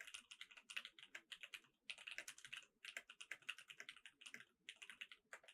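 Someone types on a computer keyboard in quick bursts of clicky keystrokes separated by short pauses, close but quiet, with no voices.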